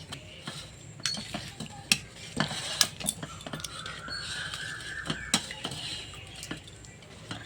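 A spoon stirs boiled raw mango pulp in a metal pot for mango papad, with irregular clinks and scrapes against the pot and soft wet shuffling, close and moderately quiet.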